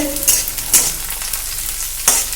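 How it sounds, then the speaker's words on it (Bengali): Onions sizzle and fry in a pan in a steady crackling hiss, with a few sharp scraping bursts as they are stirred, and no voices. "পেঁয়াজটা কিন্তু আমাদের সুন্দর ভাজা হয়ে গেছে"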